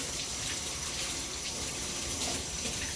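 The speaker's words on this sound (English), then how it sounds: "Just rinsing my gloves off." Work gloves rinsed under a running kitchen tap while stew fish is being prepared; water pours in a steady, even rush for the whole moment, close and fairly loud, with no talk over it.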